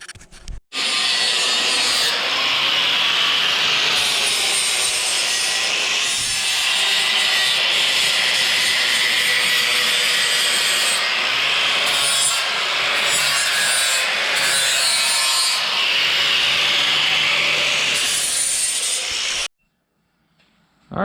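Steel subframe for an LS-swapped Miata being ground down for welding, a continuous loud abrasive grinding roar holding steady for about twenty seconds, with brief dips in pitch and load, then stopping abruptly near the end.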